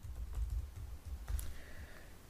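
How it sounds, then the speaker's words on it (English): A password is typed on a computer keyboard, with a short burst of soft, close key taps over low background noise. "So I'm going to type that in."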